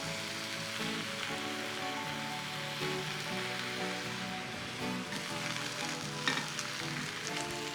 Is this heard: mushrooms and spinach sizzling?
yes